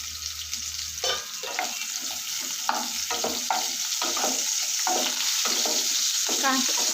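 Onion and two green chilies fry in hot oil with a steady crackling sizzle, punctuated by repeated scraping stirs of a spatula in the pan.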